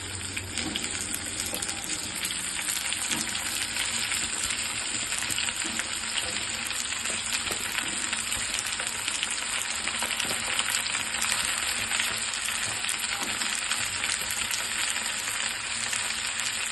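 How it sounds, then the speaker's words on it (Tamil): Sliced okra and onion sauté in hot oil for a South Indian okra poriyal, giving a steady, dense sizzle and crackle that stays even throughout, with no one speaking. "வெண்டைக்காவும் எண்ணெயில் போட்டு தான் வதக்க போகிறோம்"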